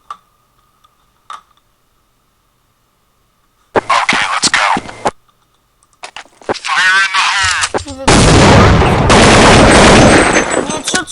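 Sharp gunshots crack in clusters and then a sustained loud volley of rifle fire, with headshot hits, in the shooter video game Counter-Strike, preceded by quiet ticks and near-silence.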